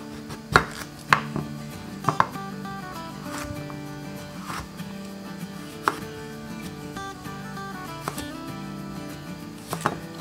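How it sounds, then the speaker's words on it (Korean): A knife chops green chili peppers and carrots on a cutting board, sharp close taps arriving in irregular bursts and isolated strikes over quiet background music. "고추는 꼭지를 이렇게 좀 잘라주세요"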